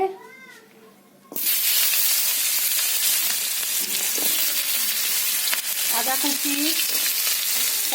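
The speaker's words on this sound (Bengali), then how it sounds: "টমেটো পেঁয়াজ আর রসুন আমি দিয়ে একটু মশলাটা নেড়ে নেবো" Tomato, onion and garlic hit hot oil in a wok with a sudden loud, sustained sizzle and hiss, stirred now and then with scraping clatter; a brief voice is heard just before the frying begins.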